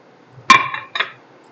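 A club sandwich is set onto a plate with two quick clinks of dishware, a sharp bright tap followed by a softer one, close and otherwise quiet.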